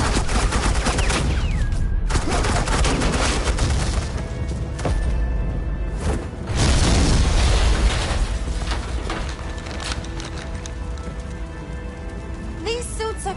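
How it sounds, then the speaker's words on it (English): Suppressing gunfire in the Batman Telltale game rolls out as a dense, continuous fusillade of rapid shots and crackling impacts, loud and unbroken throughout, mixed with game effects and brief voices. "Suppressing fire."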